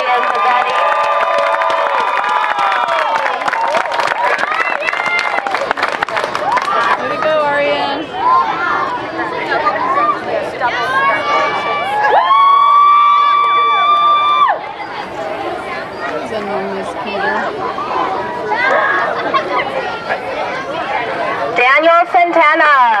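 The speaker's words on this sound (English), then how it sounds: "So can we give a round of applause for Arian Pavetti?" A large crowd at a school culmination certificate ceremony cheering, whooping and shouting continuously with scattered clapping, loud and lively throughout, with children's voices mixed in.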